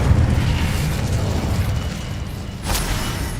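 An Incendio fire spell is cast in Hogwarts Legacy, giving a loud, rumbling burst of flame that rolls on steadily, with a short crackling flare near the end.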